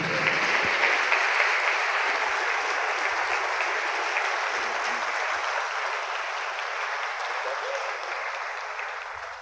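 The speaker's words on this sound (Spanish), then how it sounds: "Recibamos con un fuerte aplauso porque es un orgullo y placer presentarles al señor Fernando Gaitán Salom." A conference audience applauds to welcome a speaker, a dense sustained wash of clapping from a crowd that fades slowly over several seconds without voices over it.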